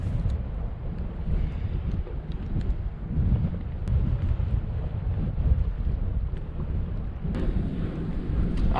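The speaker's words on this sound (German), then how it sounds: "Also der Wind, der hat ein bisschen zugenommen" Strong wind during a snowstorm buffets the microphone in a continuous low roar, with gusts swelling and easing throughout and no voices.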